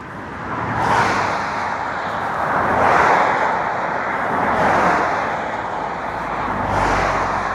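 Road traffic on a weekday midday, cars passing one after another with swelling and fading whooshes, fairly near and steady.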